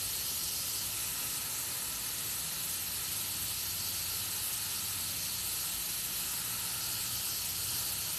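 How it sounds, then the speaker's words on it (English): An airbrush spraying paint onto fine details, giving a steady, even hiss that runs unbroken from start to finish at close range and fairly low level, with no talk. "I know it's time consuming, but I do enjoy airbrushing all these details."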